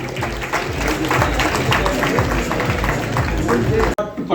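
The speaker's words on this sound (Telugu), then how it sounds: "చప్పట్లు కొట్టాలండి" A crowd at a felicitation ceremony, where an MLA hands cash awards to national and state-level athletes, claps steadily. The dense applause continues for several seconds and then cuts off abruptly.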